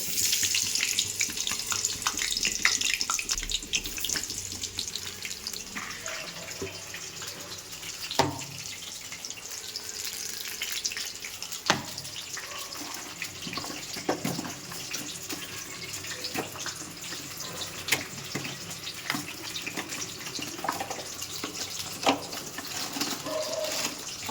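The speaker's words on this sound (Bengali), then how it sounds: "আলুগুলো এবার একে একে গরম তেলের মধ্যে ছেড়ে দেব" Potato pieces frying in hot oil for beef biryani, a steady close bubbling sizzle lasting throughout, with a few sharper crackles and clicks scattered across it and no voices.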